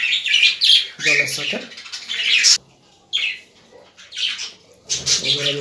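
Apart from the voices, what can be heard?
pet birds chirping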